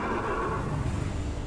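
A plow horse whinnies in a video game, one brief and fairly loud neigh over a dense game soundscape.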